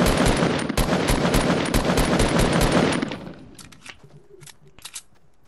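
Rapid automatic gunfire in the battle-royale game Fortnite, a loud dense burst for about three seconds, then scattered fainter shots and clicks.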